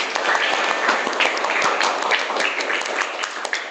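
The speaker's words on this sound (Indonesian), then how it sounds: "Tepuk tangan untuk kita." A class of schoolchildren claps in a classroom, a busy patter of many hands with sharp individual claps standing out, moderately loud and steady throughout.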